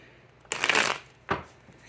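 Tarot cards shuffled by hand, two quick riffling bursts close to the mic, the first longer and the second brief, with a quiet room between them.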